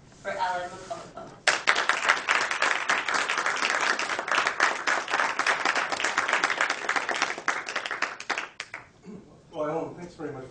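An audience at a college lecture event claps in sustained applause for several seconds, with a voice speaking just before it and again as the clapping dies away.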